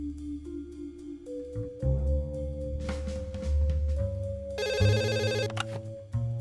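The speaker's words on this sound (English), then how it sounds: "I should pick up that phone." Telephone in the Dog Mendonca & PizzaBoy adventure game rings in a loud, clear electronic ringtone pattern with tonal bursts and game music underneath, with no talking.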